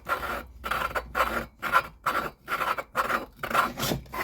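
A chainsaw piston is lapped back and forth inside its cylinder, giving a steady rhythmic rasping scrape, about eight close strokes with short gaps between them.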